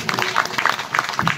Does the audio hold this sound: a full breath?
no